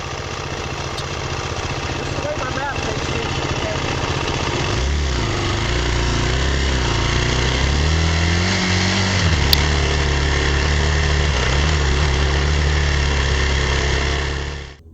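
A motorcycle fitted with an INNOVV K-5 dash cam runs off-road, its engine droning steadily and loudly for the whole stretch, with the pitch shifting as it changes speed and no talk over it.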